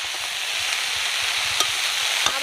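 Saag greens frying in a pan with eggplant and potato, a steady close sizzle with a few scraping stirs and soft clicks of a spatula, no voices.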